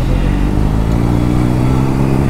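A motorcycle engine and exhaust idling close up, a steady, even low throb with no revving, loud and unbroken for a couple of seconds.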